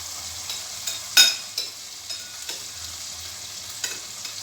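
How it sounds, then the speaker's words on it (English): Skin-on salmon goes into a hot saucepan with a sharp clatter, then a soft, steady sizzle follows, broken by a few light taps and scrapes. "I'm placing the salmon in the saucepan now."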